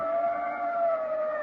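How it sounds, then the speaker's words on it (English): An ambulance siren in an old radio drama, a steady wailing tone with strong harmonics, sustained and fairly near, heard alone without voices for a brief moment. "We were about a block away from her apartment when we heard the ambulance."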